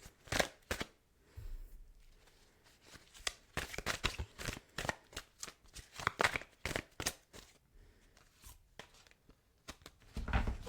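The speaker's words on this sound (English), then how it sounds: "Let's pull one angel number card for our lovely Gemini friends." Tarot-style angel number cards are shuffled up close in repeated quick riffling bursts and soft crisp flicks, with brief pauses between bursts and no talking.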